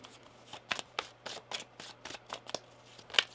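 Tarot cards being shuffled by hand, a quick run of crisp riffling flicks in an uneven rhythm, close and quiet over a low steady hum.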